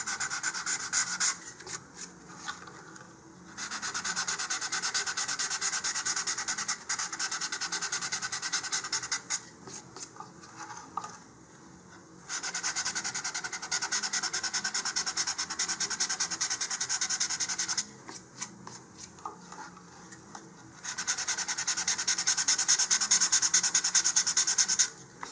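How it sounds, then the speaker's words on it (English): Steady scraping of sandpaper rubbed back and forth in long runs on a model rocket body tube, broken by a few short pauses, close up with no talking. "I'm just going to sand a little bit where those fins are going to be."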